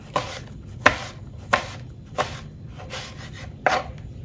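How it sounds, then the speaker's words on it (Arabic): A knife chops eggplant into small cubes on a cutting board, giving six distinct sharp strikes at an irregular, unhurried pace, each close and clear over quiet room noise. "غادي نقطعوهم هكا على حساب مكعبات صغيره"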